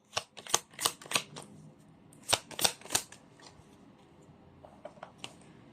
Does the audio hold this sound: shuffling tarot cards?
yes